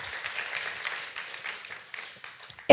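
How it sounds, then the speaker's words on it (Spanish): A gathered congregation gives Karen a round of applause, the clapping moderate at first and then thinning and fading away over a few seconds. "Un aplauso para Karen"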